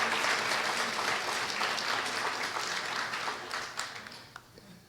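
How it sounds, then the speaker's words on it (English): An audience applauds family members at a library renaming ceremony, a broad wash of many hands clapping indoors that holds steady and then thins and fades toward the end. "Let's give them a round of applause."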